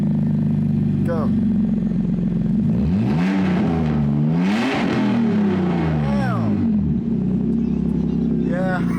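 A Nissan R34 fitted with a TOMEI EXpreme Ti titanium exhaust and no muffler idles with a deep burble, then revs sharply several times, pitch rising and falling, loud and close throughout.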